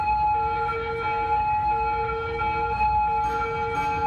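An ambulance siren wails continuously and loudly in the city-building game Cities Skylines, steady tones holding over traffic rumble with no talking.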